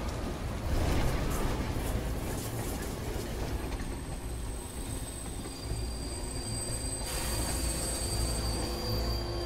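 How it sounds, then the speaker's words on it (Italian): A train rolls past at steady volume, a broad rumble of wheels and carriages with thin, high wheel squeals joining in the second half. "Aspettano il treno."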